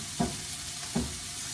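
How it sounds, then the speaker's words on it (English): Vegetables cooking down in a pan on a large stovetop burner turned to medium-low, a soft continuous sizzle with two brief stirring scrapes, fairly quiet and without voices. "So my veggies, they're starting to cook down. You can kind of hear them."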